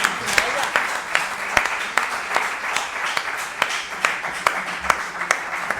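Audience applause at a flamenco event at a university venue in Alicante, a steady wash of clapping with sharper individual claps popping through, moderately loud and sustained.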